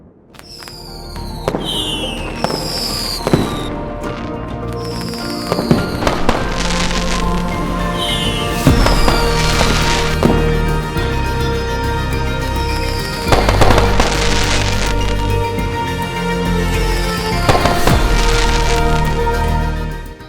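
Animated fireworks with glowing rockets burst continuously in loud crackling, booming volleys, dense layered pops and whistles filling the whole stretch without talk.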